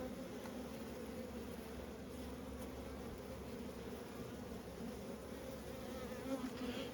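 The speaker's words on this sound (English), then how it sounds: "That's a big old drone bee here, look, you see him?" A dense, steady hum of honey bees buzzing around an open hive frame that holds workers and a large drone. The buzz stays close and constant throughout, with no voices over it.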